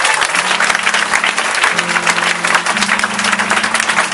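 Sustained applause from a church congregation, dense and loud clapping filling the space without pause, with a low organ or keyboard tone held underneath.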